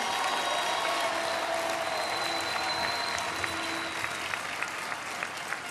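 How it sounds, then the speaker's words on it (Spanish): Sustained applause from a large crowd at the opening ceremony of World Youth Day in Panama, honouring the indigenous youth, a steady wash of clapping that holds at an even, moderately distant level for several seconds with faint cheers mixed in. "Un aplauso grande"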